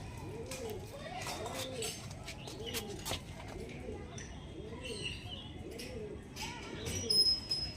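Green-type antique pigeons coo in a repeated rolling rhythm, close and clear, with children and other voices in the background.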